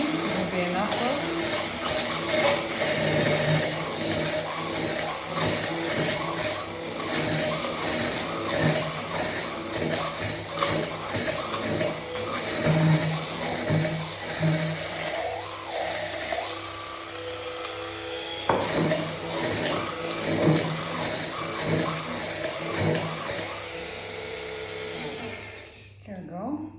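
A blender purees mussels into a seafood stock base for paella. It gives a loud, steady whirring grind that runs almost the whole time, with a voice talking over it.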